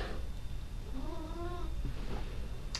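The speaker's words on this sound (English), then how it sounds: "It's my cat contributing. I don't know if you could hear him." A house cat meows once, a single drawn-out mid-pitched call heard nearby over a steady room hiss, with no talk.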